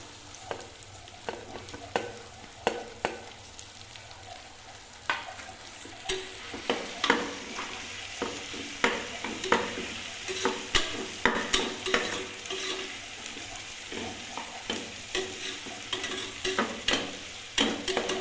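Green chilies and onions frying in a pan for a samai rice egg biryani, a steady sizzle under repeated close scraping stirs that grow busier and louder partway through.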